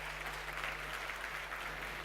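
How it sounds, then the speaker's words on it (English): A conference audience at a keynote on an innovation stage claps as a speaker walks on, quiet and fairly distant, a soft steady patter over room hum. "Can I get a clap?"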